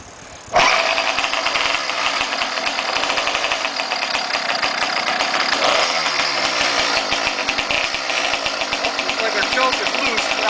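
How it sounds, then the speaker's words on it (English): A motorized bicycle engine on a custom three-speed bike, rear wheel raised off the ground, kickstarted into a loud, rattly two-stroke run that holds steady and close for about ten seconds after one sharp catch. "I'm going to kick over the motor with the rear end off the ground"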